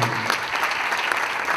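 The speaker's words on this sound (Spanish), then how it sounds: "Un fuerte aplauso" Strong applause from an audience at a national awards ceremony, dense and even clapping from start to finish.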